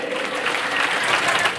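Large audience of about 700 at a company anniversary training event applauding, a continuous wash of clapping that swells slightly toward the end, loud and filling the hall, with a murmur of voices mixed in.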